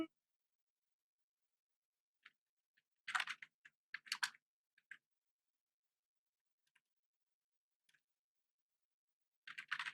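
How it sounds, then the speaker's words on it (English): Scattered bursts of computer keyboard typing, a few quick clusters of clicks separated by long quiet gaps, fairly close and moderately soft, with no talking. "while he's typing it up"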